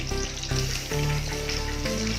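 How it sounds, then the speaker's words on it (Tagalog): A pot of mung bean soup boils with a close, continuous bubbling hiss, and no voices are heard. "Kumukulo na po yung ating sabaw ng munggo."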